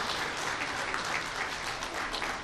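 An audience at a FAIRA function gives loud, sustained applause, a dense even clatter of many hands with no voices on top.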